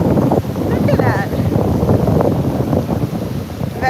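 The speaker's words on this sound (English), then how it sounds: "Very windy. I don't know if you guys can hear me or not. Super windy." Heavy wind buffets the microphone throughout a park walk, a loud continuous low roar with gusty surges, and a person talks now and then underneath.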